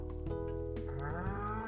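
A cow in the farming game Stardew Valley lets out a drawn, tonal moo that rises and sustains over steady background music, fairly quiet and without speech.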